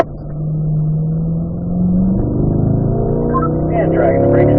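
A car climbs a hill on a race track in third gear, its engine loud and close, the pitch rising steadily as it powers up under a driver's talk.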